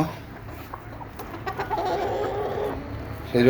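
Native chickens cluck in a farmyard, a continuous busy mix of hen calls and fowl chatter at moderate distance with a louder burst near the end.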